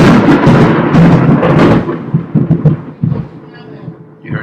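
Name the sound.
thunder from a lightning strike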